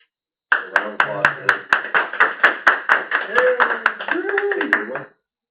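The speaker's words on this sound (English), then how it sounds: "A round of applause." Applause at a small user group meeting, a modest room of people clapping for a few seconds with distinct individual claps audible, while a voice speaks over the clapping toward the end before it stops abruptly.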